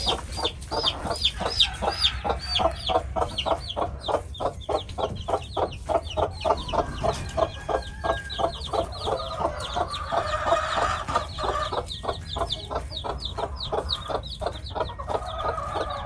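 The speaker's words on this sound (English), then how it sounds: "Such a good little mama hen." A mother hen with newly hatched chicks clucks in a steady, rapid rhythm close by, continuing throughout with soft chicken sounds around her.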